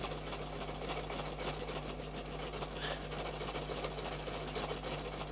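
A sewing machine, guided by a circles and straights tool, runs steadily while stitching a decorative circle, its motor humming and needle tapping in a rapid, even rhythm up close.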